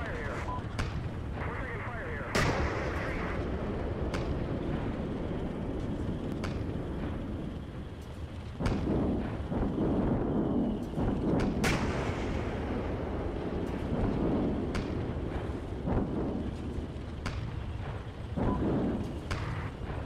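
Artillery in the Steel Beasts Pro PE tank simulator booms as repeated heavy blasts, distant and close, over a rumbling battlefield bed, while voices talk intermittently throughout.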